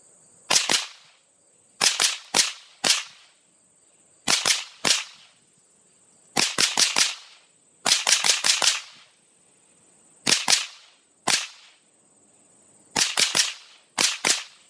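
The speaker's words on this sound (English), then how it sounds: "there's the results of that first magazine through" An M&P 15-22 rifle fires a magazine of .22 rounds in rapid strings of two to four sharp, cracking shots separated by brief pauses. The shots are loud and close, with a steady high-pitched ringing tone underneath.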